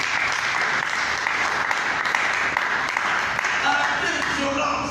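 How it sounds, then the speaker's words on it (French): A church congregation claps steadily and loudly in sustained applause for God, with voices and scattered cheers mixed into the dense clapping. "Applaudissons notre Dieu et gloire."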